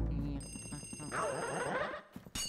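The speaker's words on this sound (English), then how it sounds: "There's a phone ringing." A telephone rings inside the haunted house of the video game Luigi's Mansion, a bright electronic bell trill sounding over a dense game soundscape and music, with a voice talking partway through.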